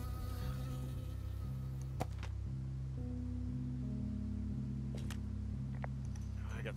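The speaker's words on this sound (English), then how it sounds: "I got stung by a bee." A bee buzzes steadily close by in the Firewatch video game, a droning hum with shifting pitch over a few seconds, joined by a couple of faint clicks.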